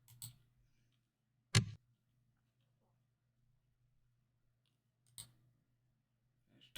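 A hatchet chops a cedar tree in Wurm Unlimited with a few sharp, isolated thuds spaced seconds apart over a faint low hum.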